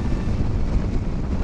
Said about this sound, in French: je vous laisse profiter du son du vent.